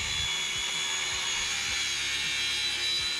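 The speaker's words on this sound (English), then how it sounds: "We are drilling holes in the runners of our underbed table." A drill runs steadily while boring holes in the wooden runners of an under-bed table during a Sprinter van conversion, a continuous high whine with several low thumps and knocks beneath it.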